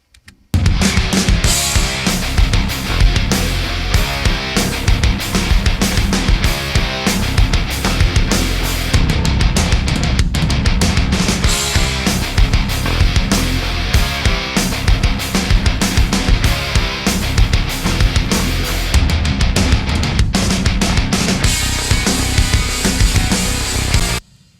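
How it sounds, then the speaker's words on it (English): Heavy distorted main guitars from a metal mix play as a dense, continuous loud wall of sound for about twenty-five seconds, with two brief dips, and no voices over them. "So the main guitars, they sound like this."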